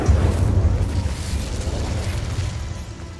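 A fire spell cast in Hogwarts Legacy bursts out as a loud, rumbling whoosh with a heavy low-end boom that fades gradually over a few seconds, with no voices.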